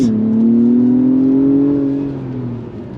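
A 2024 Acura TLX Type S sedan's engine pulls hard on throttle, a loud, smooth, rising drone that climbs steadily in pitch, then eases and dips slightly near the end, heard from inside the car with no talking.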